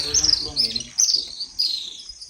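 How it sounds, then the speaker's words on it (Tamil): Sparrows chirp around their nests on a mountaintop, several bright repeated tweets in quick bursts, close and clear with faint talk early on. "இப்போ எல்லா குருவியும் கூடுதல்கிட்ட வந்துட்டு போகுது பாருங்கள்."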